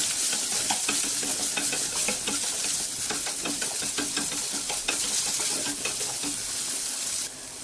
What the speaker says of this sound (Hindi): अब इस घी में हम डाल देंगे सोयाबीन को और इसे 2 से 3 मिनट के लिए लो फ्लेम पे हम इसे फ्राई कर लेंगे।